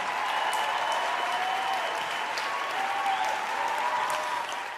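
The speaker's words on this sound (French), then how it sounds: "On applaudit." A crowd applauds at a televised opening show: sustained, dense clapping that stays loud and even for about five seconds before easing slightly at the end.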